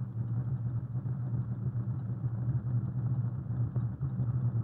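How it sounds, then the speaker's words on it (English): Concrete mixer trucks move along the forms with a low, steady engine rumble and drone, a continuous mid-distance hum with no speech. "a fleet of mixer trucks which moves down the forms, filling them with concrete"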